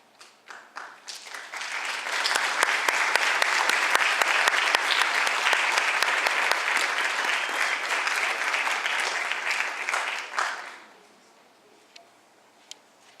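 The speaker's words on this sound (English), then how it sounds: "him another round of applause" Audience applause for an inductee at a National Junior Honor Society induction ceremony, starting with scattered claps, building to a full sustained round lasting several seconds, then tapering off abruptly.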